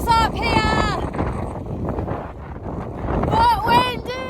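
Gusty wind buffeting the microphone in a steady low rumble, with brief bird-like whistles at the start and end.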